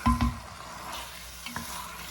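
Chicken pieces sautéing with spices in oil in a pan, a soft continuous sizzle broken by a couple of sharp spoon-scraping stirs near the start and another near the end.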